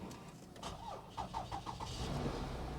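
A car with a nearly dead battery cranks with a short series of rhythmic starter chugs, then catches and settles into a steady idle, heard fairly close.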